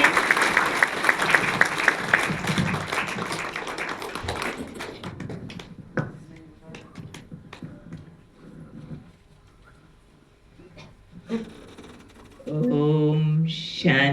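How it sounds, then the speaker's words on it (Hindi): Audience applause fills a hall at a Brahma Kumaris gathering, dense clapping for a few seconds that thins into scattered claps before someone begins to speak. "एक बार फिर से जोरदार तालियां अनीता दीदी के लिए।"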